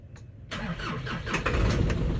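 A truck engine cranks briefly and catches about half a second in, then settles into a steady mid-pitched running rumble that grows slightly louder toward the end.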